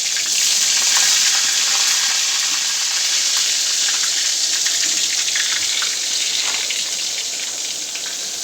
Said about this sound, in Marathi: अंगावर उडून येते तेल. हळूहळू सोडायची एक एक वांगे.